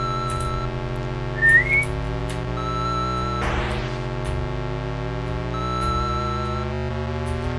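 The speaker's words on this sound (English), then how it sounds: "Tires don't squeal in this game. They just whistle." Tires whistling in an 8-bit racing video game, thin chiptune tones over steady synthesized engine drone and music, with a brief burst of static noise midway.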